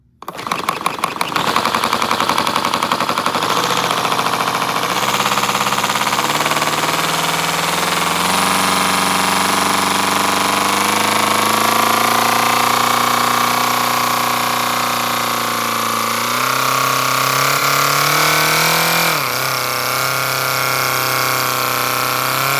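A 70cc boxer four-cylinder model engine with dual exhaust runs continuously and loudly, a sustained buzzing drone with shifting pitch as it revs up and settles, starting abruptly and holding for over twenty seconds.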